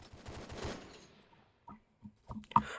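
Game gunfire from a Glock pistol: a dense, loud burst of rapid shots at the start that decays into quiet, then a few sharper, separate shots near the end.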